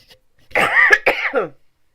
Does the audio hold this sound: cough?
yes